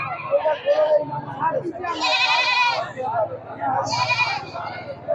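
Two loud, wavering goat bleats ring out a couple of seconds apart at a crowded goat market with animals tethered in rows, while people talk continuously close by.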